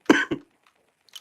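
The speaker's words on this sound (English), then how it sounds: "sorry guys, still got a bit of a cough." A single short cough followed by a smaller second burst, close to the microphone and loud, with silence around it.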